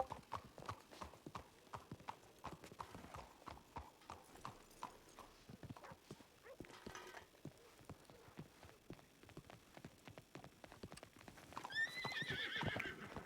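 Steady clip-clop of horse hooves trotting throughout in a video game, with a horse whinnying near the end over a low hum.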